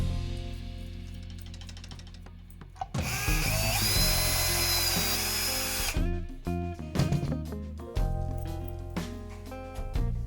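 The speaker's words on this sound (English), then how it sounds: "Taking bushings away." A power drill whines and grinds near at hand while bushings are removed from an Angus Young style Gibson SG guitar, with clicks and knocks from handling the hardware before and after the long whir.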